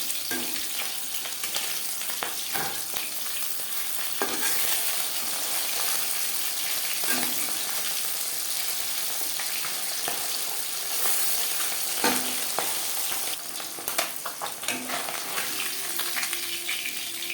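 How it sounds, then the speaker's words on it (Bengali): Loud, continuous sizzling of pabda fish frying in hot oil, with occasional scraping and stirring clatter throughout. "একটু ফোটে সাবধানে ভাজতে হবে মাছ"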